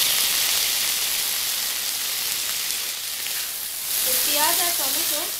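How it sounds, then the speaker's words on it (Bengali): Chopped onion and tomato fry in a pan with a dense, steady sizzle throughout, loud and close, with a brief stirring scrape and a short voice near the end. "পেঁয়াজটা একটু ফ্রাই করে নিয়েছি, এবার দিয়ে দেবো টমেটো কুচিগুলো"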